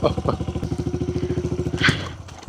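A motorcycle engine revs up for a one-foot wheelie attempt, a loud, close, rapidly pulsing mid-pitched drone that swells briefly near the end before fading.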